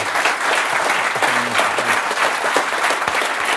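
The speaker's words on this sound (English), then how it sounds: "I think a huge round of applause for Nir there." Loud, dense audience applause for Nir Eyal fills a room at a talk event, steady clapping from many hands throughout with faint crowd murmur underneath.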